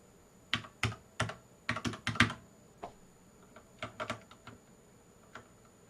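Bursts of keystrokes on a computer keyboard in irregular clusters, close and fairly quiet, with short pauses between runs of typing and no voices.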